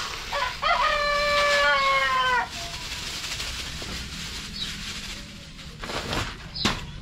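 Breeder chickens at feeding, with a rooster crowing loudly near the start, then scattered clucks and farmyard rustling; brief chirps and a sharp knock come near the end.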